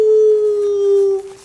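A voice imitates a dog's howl with one long, steady, sustained tone held loudly for over a second before it fades.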